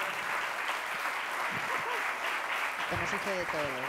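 Audience applause at the closing ceremony of Hispania Nostra, thanking the technical team, a steady wash of clapping throughout with voices talking over it toward the end.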